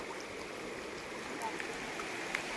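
A stream flows steadily at a quiet outdoor spot in Palakkad, a soft continuous rush of water with faint trickles and no voices over it.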